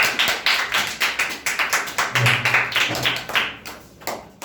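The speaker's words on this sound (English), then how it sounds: "Clap for Gulshan" Students in a classroom clap for Gulshan at a storytelling competition, a fairly rhythmic run of group claps in near-unison beats that gradually thins and fades toward the end.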